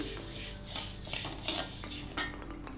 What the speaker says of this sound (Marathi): आता आपण गहू भाजून घेऊयात सगळे पूर्ण वास येईपर्यंत भाजून घ्यायचे आहेत